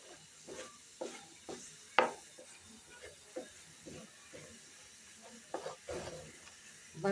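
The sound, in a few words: barfi mixture being roasted and stirred on stove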